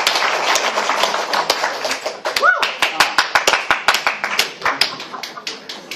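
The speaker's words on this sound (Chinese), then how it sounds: "请大家掌声鼓励" Sparse hand claps from a small audience at a medical conference. The crisp, evenly spaced claps come close together, with a brief voice partway through.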